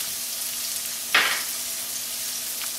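Zucchini squash hitting a hot oiled pan for zucchini spaghetti, giving one brief sizzling burst that fades back into a steady low frying hiss, with no talking.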